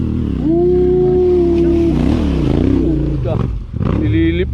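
A Honda trail motorcycle engine climbing a steep uphill trail on Mt. Maarat in first gear, heard as a loud, sustained, labouring drone with shifting pitch and rough clatter toward the end.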